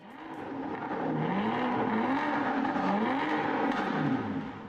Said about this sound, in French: Review d'une supercar enragée, l'Aston Martin Vulcan.